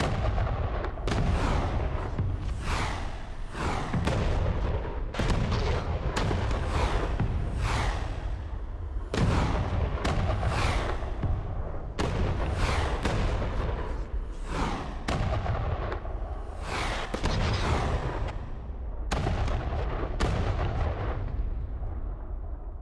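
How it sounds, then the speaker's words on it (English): Mortar fire in the video game Thunder Tier One: a long series of heavy, booming blasts at irregular intervals, each a loud thump with a rolling decay, continuing steadily throughout. "Hopefully their mortars kill some of them."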